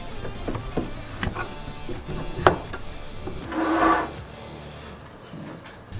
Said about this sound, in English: I'm not using a sander, as you've probably noticed. I am actually using the hand planer.